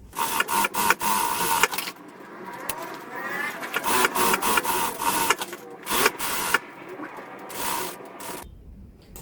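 Sewing machine stitching closed the side of a small bag, fast mechanical bursts starting and stopping close by, with short pauses between runs.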